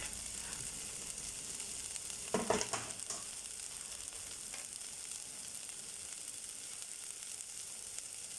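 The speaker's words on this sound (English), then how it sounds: "So the next thing we're going to do is add our garlic." Garlic added to a hot pan for a Kenyan githeri stew gives a quiet, steady sizzle, with a brief louder burst of clatter and crackle a couple of seconds in, then continuing low frying hiss.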